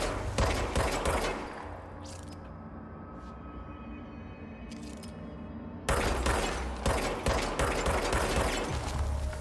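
Rapid automatic gunfire in the game Control, with dense bursts of loud shots that ease into a lower mechanical rumble with a few isolated cracks, then erupt again in sustained heavy firing.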